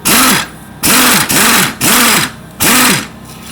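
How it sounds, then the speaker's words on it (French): Impact wrench hammering off the clutch bell while stripping down a tractor being built for racing, in loud, close bursts: four to five rattling pulses of roughly half a second each, separated by short gaps, with no talk over them. "La clé à choc."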